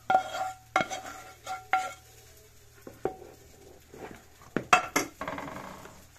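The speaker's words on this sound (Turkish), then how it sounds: "Yağlı şekilde içine döküyorum. güzel harmanlayacağım. Karıştıracağım." A spoon stirs gözleme filling of fried onion, oil and spices in a pan, making irregular clinks and scraping knocks against the metal, close and fairly loud, with quiet pauses between strokes.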